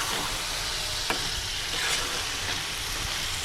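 Keema filling for paratha and roti sizzles steadily in a frying pan, with a few distinct scraping clicks of stirring cutting through the continuous crackle, close and clear with no talking.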